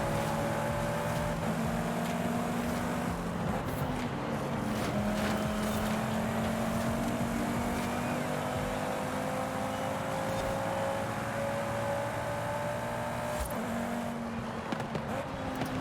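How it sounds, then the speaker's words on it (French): An Audi TT RS 2018 five-cylinder engine in the racing game Forza Horizon 5 drones steadily, its pitch climbing and dropping through gear changes, loud and continuous with no talking. "ils ont légèrement retravaillé le son de 5 cylindres Audi"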